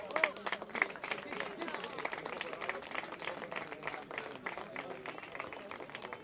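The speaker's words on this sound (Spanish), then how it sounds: "Un fuerte aplauso también" Sustained crowd applause at a mixed-category summer tournament medal ceremony, dense clapping throughout, fairly loud and steady, with a few voices mixed in.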